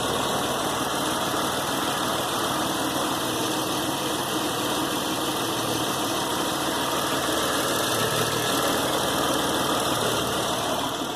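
A cheap used Chevy car engine idles steadily with a constant rumbling drone and faint knocking vibration, running alone without talk throughout.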